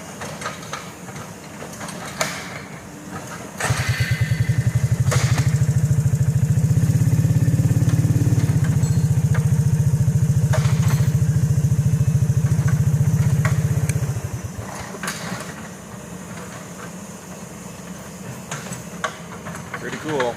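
Volvo EC140EL excavator filling a hole back in after removing a large tree stump, its diesel engine surging into a loud, sustained roar for about ten seconds before easing back to idle, with occasional clanks and talk around it.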